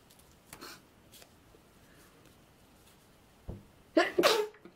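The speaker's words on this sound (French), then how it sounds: "Je crois que je vais éternuer." A single loud sneeze near the end, after a quiet stretch with a couple of soft breaths or sniffs.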